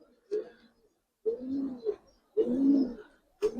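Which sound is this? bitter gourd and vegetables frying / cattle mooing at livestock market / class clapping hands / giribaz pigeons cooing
giribaz pigeons cooing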